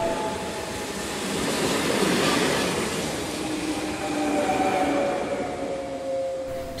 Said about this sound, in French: quand le bruit du train il commence à faire le bruit